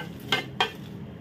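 Byadgi chillies sizzle in a pan under a soft frying hiss, broken by two quick scraping strokes of a spoon stirring them, close and brief.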